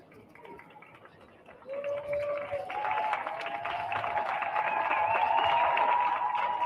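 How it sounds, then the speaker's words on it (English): Crowd applause at a presidential inauguration starts up and keeps building, thick and steady, with a long rising tone sounding over it. "We can hear the applause."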